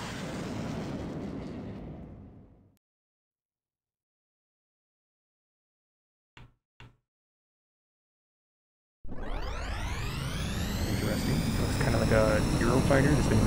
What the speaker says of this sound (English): Fighter that's been made stealthy. Oh, this one actually has afterburner.